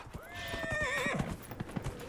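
A horse in Dragon Age: Inquisition neighs in a rising, wavering whinny, followed by a few scattered hoof clops, close and clear against a soft background.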